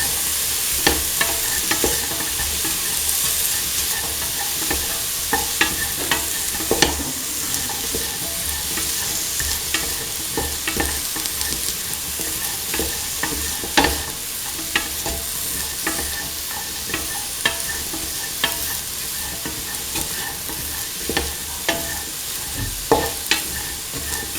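Mung beans, ivy gourd and coconut milk stirred in a pan over heat, a steady soft sizzle broken by repeated scraping clicks of the spoon throughout, close and alone.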